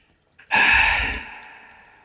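A voice imitates the Witcher panting, giving one sharp loud exhaled gasp that trails off into a fading breath, alone with no other sound.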